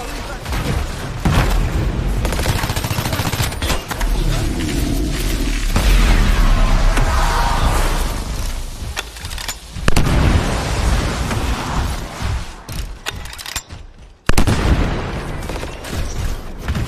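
Sci-fi weapon fire and explosions in the video game Anthem, a dense, loud continuous barrage of shots and booms with characters talking over the combat.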